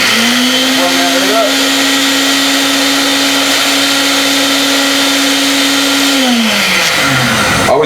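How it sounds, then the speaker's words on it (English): A blender whirs at high speed mixing a honey vinaigrette, a loud steady motor whine that holds for several seconds before winding down near the end. "Always make sure your blender's working properly,"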